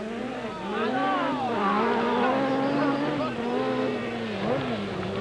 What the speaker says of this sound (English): The early leader, Bruno Saabi, in the very twitchy Peugeot.